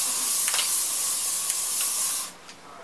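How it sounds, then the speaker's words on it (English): Hairspray from an aerosol can sprayed onto a made-up face, a steady close hiss lasting about two seconds with faint pulses, then cutting off to near quiet. "That's hairspray that you spray on the face to keep it still on."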